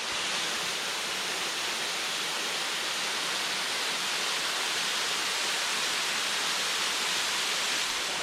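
St Croix Falls waterfall roars steadily and loudly close by, a dense unbroken rush of falling water filling the whole scene with no voices.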